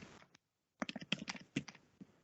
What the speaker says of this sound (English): I can hear the typing sound.